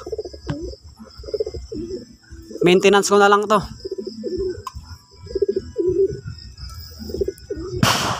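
Breeder pigeons in a loft give repeated low, throaty coos in an irregular rhythm, close by, while someone speaks briefly partway through.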